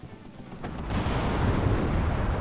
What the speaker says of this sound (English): Artillery's almost arrived